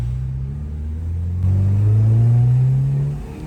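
A rebuilt 1996 Honda Civic VTi with a PH16A engine revs on a test drive, rising in a loud, close, steady climb that surges briefly before easing off near the end.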